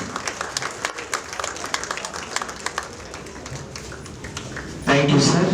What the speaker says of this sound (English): let us all rise and offer him a standing ovation and a thunderous round of applause to this poor gentleman